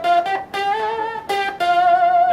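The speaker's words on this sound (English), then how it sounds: "right there you can hear the octave effect" Sustained electric guitar notes with a buzzy octave-up fuzz tone, several held pitches in a row, loud and close with no talking.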